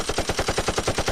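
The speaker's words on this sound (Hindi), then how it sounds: "तुरंत साले रॉकेट पर गोलीबारी शुरू कर देते हैं" Rapid cartoon machine-gun fire aimed at a rocket, loud and close: a steady run of evenly spaced bursts, about ten per second, continuing without a break.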